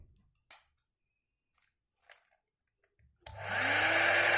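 A Babyliss AS200E rotating hot air brush clicks a few times in near silence, then switches on with a sudden loud, steady rushing whoosh of air and motor hum, close by.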